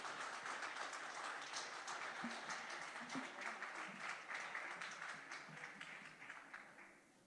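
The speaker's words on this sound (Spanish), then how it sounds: "Dale un aplauso al Señor" Congregational applause in a church during worship, moderately distant and fairly soft, steady clapping that thins out toward the end.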